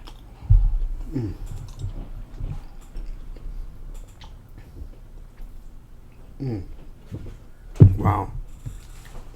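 Someone chewing A&W yam fries, soft close-up mouth sounds and bites with a louder crunch near the end, interspersed with quiet breaths and brief vocal noises.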